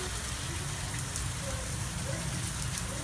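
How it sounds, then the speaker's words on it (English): Steady, dense rain hisses and patters on surfaces without a break, close and fairly loud. "It's raining pretty hard out there."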